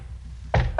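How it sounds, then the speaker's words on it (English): Two firm knocks on a hotel room door at midnight, sounding close and distinct, with a short pause between them and a dull thud to each. "About midnight, we knock on the door and say it's the bellboy."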